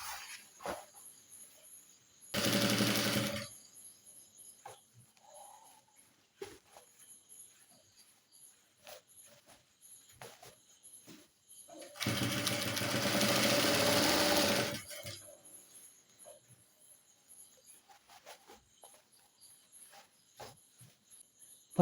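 A sewing machine stitches a reinforcement seam on a girl's uniform pant, running in two distinct bursts, one short and one about three seconds long, over a faint background hum with light ticks between.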